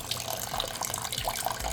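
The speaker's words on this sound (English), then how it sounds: "We want to soak the potatoes in the water." Water runs into a bowl of potatoes set to soak before making French fries, a steady splashing pour from a tap heard close up with no speech over it.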